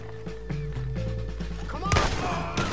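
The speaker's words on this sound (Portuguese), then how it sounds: "Dá um tiro de dois nele." Gunfire in the Western video game Red Dead Redemption 2, a couple of sharp shots cutting through steady game ambience and music, with a louder burst near the end and someone talking over it.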